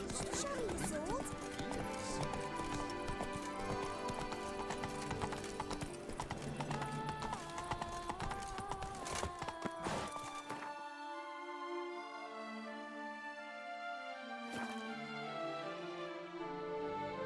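Roach the horse's hooves clip-clop in The Witcher 3, a quick rhythmic trot over layered game sound and music with a neigh and thudding impacts, then the hoofbeats drop away and softer music continues with a voice speaking.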